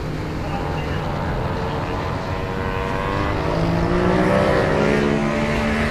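Vintage race cars lap a road circuit in a Premier Vintage event, engines droning steadily with a rise in pitch and loudness toward the end as cars pass, under continuous commentary.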